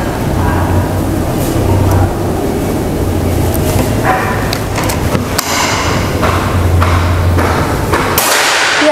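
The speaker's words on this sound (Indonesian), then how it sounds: "Kita coba ke tembakan yang pertama." Loud, dense outdoor noise with a low steady hum, broken by a few sharp cracks of Predator air rifle shots striking a target at 20 meters.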